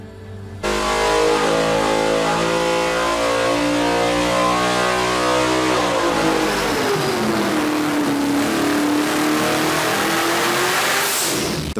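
Hennessey Venom F5 supercar with a 6.6-liter twin-turbo V8 revs loudly and close, the pitch climbing in steps, then dropping and swelling again in a long, steady engine roar.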